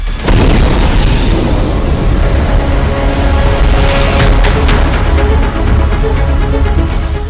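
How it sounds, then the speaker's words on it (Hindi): A Russian missile strike explosion in Kharkiv booms and rumbles on, a heavy sustained roar filling the space with crackling debris sounds. "खार्किव पर रूस के मिसाइल हमले से जोरदार धमाका हुआ"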